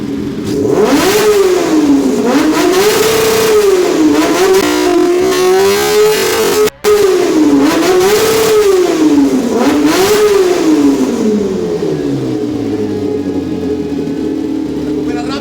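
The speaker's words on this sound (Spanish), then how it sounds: "Vamos a escuchar cómo acelera ahora sí." A homemade kart cross engine revs hard again and again in rising and falling waves, loud and close, then settles toward a lower idle near the end.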